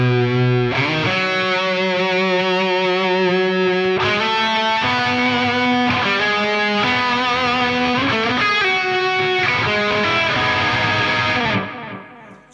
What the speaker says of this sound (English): The vibe sounds like this. It's quite subtle,